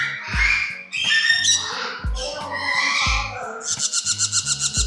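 Baby parrots at a parrot park squawk and screech loudly and close up in overlapping harsh calls, ending in a rapid, rhythmic series of raspy chirps.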